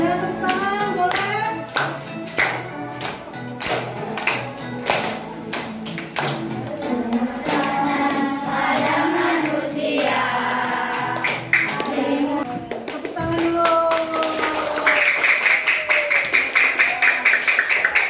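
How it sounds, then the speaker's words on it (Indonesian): Rhythmic hand clapping by a group in a teacher supervision classroom session, regular claps alongside singing and melodic music, ending with a sustained higher tone. "Nah tepuk tangan boleh?"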